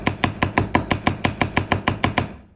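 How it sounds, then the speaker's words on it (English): A hammer strikes a handmade metal jewelry pendant resting on a block about a dozen times in a steady, quick rhythm. The blows are sharp, ringing and close, and the last one trails off into silence. "You need to have your hammer and your block and hammer your piece."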